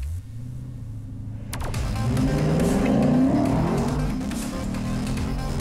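A Lexus RC F Track Edition with a V8 laps a race track at speed, its engine roaring and rising in pitch as it passes close by, with tire noise and a rumbling low end throughout.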